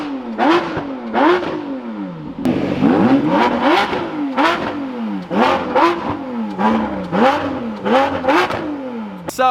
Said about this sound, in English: the 6-liter V12 integrated with hybrid technology for 963 horsepower